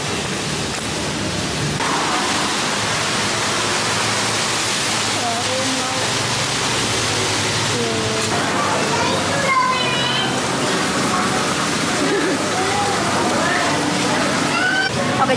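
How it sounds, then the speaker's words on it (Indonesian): Heavy rain pours outside a roadside eatery in Bali, a dense continuous hiss and splatter throughout, with people talking and children's voices mixed in underneath. "Kalian kalau bisa dengar ini tuh suara hujan deras banget di depan"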